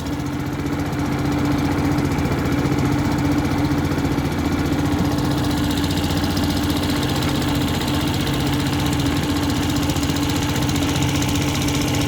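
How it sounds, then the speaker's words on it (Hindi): A boat on the Indus River runs on a Peter engine, a loud, steady chugging drone close by with a low knocking throb that holds without break for the whole stretch. "ये जी बोट है, ये आस्ता आस्ता अब जाएगी, पीटर इंजन पे चल रही है।"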